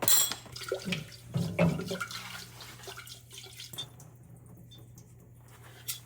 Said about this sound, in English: And then I put more water in here so they can start soaking.